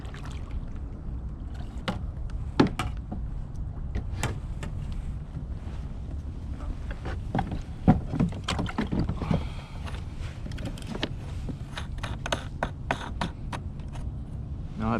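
A kayak is paddled through quiet backwater while bass fishing, with soft water swishes and occasional hull knocks under steady wind rumble, close and fairly even throughout.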